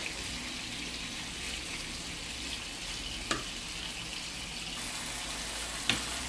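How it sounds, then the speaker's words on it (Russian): Peppers fry in a pan with a sweet sauce, giving a steady, dense sizzle that fills the whole clip, with two brief sharp clicks of a utensil near the end and no talking. "Опять же, хорошенько все это дело перемешиваем. И обжариваем опять пару минут."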